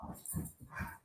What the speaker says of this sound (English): And if my dogs go crazy here, I am so sorry.